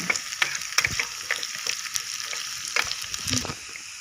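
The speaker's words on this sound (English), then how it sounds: "Now fry it till the onions turn brown." Onions fry in oil as seasoning for mor kuzhambu with red chilli, giving a close, continuous sizzle broken by sharp clicks and scrapes of stirring.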